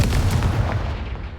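A fiery Confringo blast spell detonates in a wizarding video game, a loud, booming explosion that erupts at once and fades into a rumbling tail over about a second and a half.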